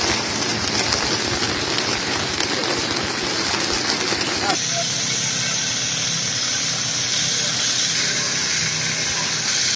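Heavy rain downpour during flooding in Akçakoca, Turkey, a loud dense continuous hiss of rain on surfaces, steady throughout with a slight change in texture midway; no talk.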